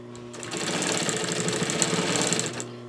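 Heavy-duty sewing machine stitching through six layers of slipcover fabric plus welt cord for a Parson's chair, a steady close whirring run that starts and stops within a few seconds, with no talking.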